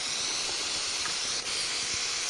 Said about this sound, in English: Now let me spray that with water.